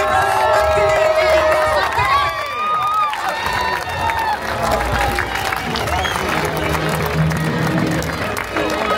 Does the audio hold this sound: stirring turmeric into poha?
no